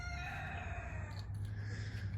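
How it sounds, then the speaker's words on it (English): A silkie rooster crows in a long, drawn-out call in a backyard, fairly faint and somewhat distant, over a low background hum. "I think you can hear our new rooster."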